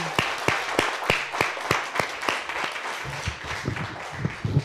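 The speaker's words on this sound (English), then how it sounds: "Let's give a round of applause to Damion Storm." Scattered hands clap at a community storytelling event as a storyteller is introduced, sharp distinct claps in an uneven rhythm, thinning out toward the end.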